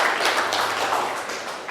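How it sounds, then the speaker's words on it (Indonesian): A classroom group applauding during a lecture: a short, dense burst of hand clapping from several people, close and fairly loud. "beri tepuk tangan dulu mungkin"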